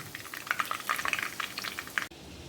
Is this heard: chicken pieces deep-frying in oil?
yes